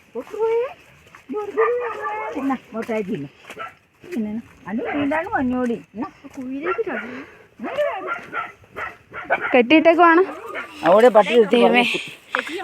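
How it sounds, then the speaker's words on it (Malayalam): Repeated yapping barks from dogs come in short bursts throughout, mixed with people chatting nearby. "പട്ടിയുടെ ഒക്കെ കൊറേ കേൾക്കുന്നുണ്ട്"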